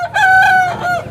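A single close, loud crow from a desi rooster at a chicken market, one drawn-out call with a short tail at the end.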